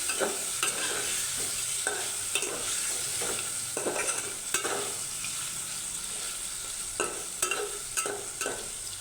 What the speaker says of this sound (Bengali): মরিচের গুঁড়া দিয়ে দিচ্ছি হ্যাঁ হলুদের গুঁড়াও দিয়ে দিচ্ছি দিয়ে এটাকে সুন্দরভাবে নাড়াচাড়া করে দেবো